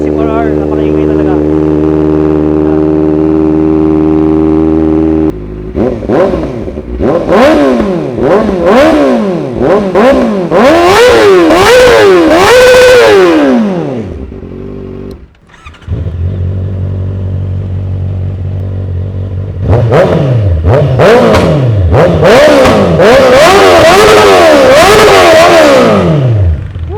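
A Kawasaki ZX-4RR motorcycle with a 16,000 RPM redline revs hard from idle in two loud bursts of rising and falling high-pitched engine howls, near and dominant, with a short drop to idle between them.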